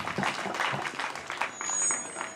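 Audience applause at a symposium in Lyantonde, a short burst of scattered, fairly close hand clapping that continues for a couple of seconds.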